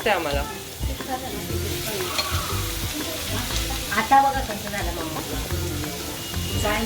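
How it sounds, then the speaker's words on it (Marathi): Rawas fish frying in a pan, an even, continuous sizzle with small crackles and scraping stirs, heard close up without talk. "तर आता ही आपली फिश फ्राय करून झालेली आहे"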